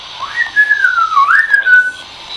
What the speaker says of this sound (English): can you whistle back?